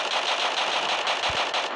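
Rapid automatic gunfire from the Free Fire battle game, a loud, dense stream of closely packed shots running the whole time with brief pulses of stronger bursts.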